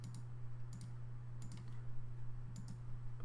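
Keys pressed on a calculator keypad as values are entered, several soft clicks in small clusters over a steady low hum, close and faint with no speech.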